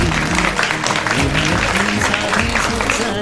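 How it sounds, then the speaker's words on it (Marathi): A show audience in Kolhapur breaks into loud applause, a dense wash of hand claps under a talking voice. "तर या सगळ्यांसाठी जोरदार टाळ्या"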